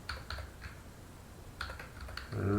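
Computer keyboard typing in short, quiet bursts of key taps with pauses between them.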